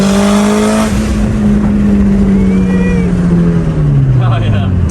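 A Mitsubishi Evo 9 with an upgraded turbo, flex fuel tune and FP Red turbo on low boost accelerates hard, its engine droning loud and close with a falling pitch as it shifts, while voices talk from inside the car.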